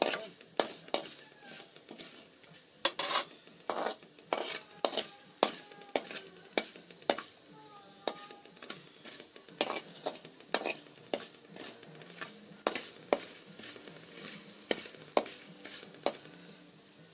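Green chillies fry in a pan for a chutney, with a faint sizzle under a steady run of sharp spatula taps and scrapes against the metal, close and irregular throughout.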